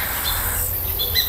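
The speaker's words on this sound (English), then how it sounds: "First bird sound." A recorded bird call is played outdoors as part of a hearing test, giving a few brief, high chirps over a low background murmur.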